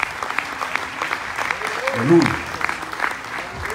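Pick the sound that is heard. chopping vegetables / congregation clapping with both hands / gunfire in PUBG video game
congregation clapping with both hands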